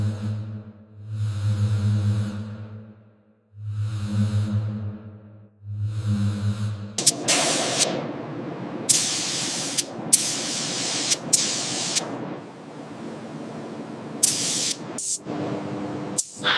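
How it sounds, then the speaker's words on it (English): A clear protective coating being sprayed onto the raw steel of a restored AEC Mammoth Major crane truck: a droning hum with three pulses, then repeated hissing spray bursts of varying length, close and fairly loud. "the team applies a clear protective coating"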